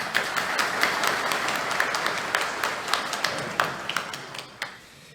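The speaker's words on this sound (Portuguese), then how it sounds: "salva de palmas para eles" Applause from an event audience at an awareness program, a thinning patter of claps with distinct sharp hand strikes standing out, fading toward the end.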